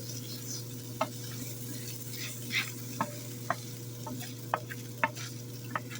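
Fowl browning in a frying pan with crushed chilies gives a soft, steady sizzle over a low hum, broken by a handful of sharp utensil clicks and taps spaced a second or so apart.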